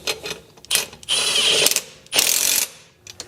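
A ratchet wrench tightening 5/16 inch bolts treated with blue thread locker on the front end of a 1967 Chevy Impala 4-door, heard as close, loud bursts of rapid clicking in two long strokes with short clicks between.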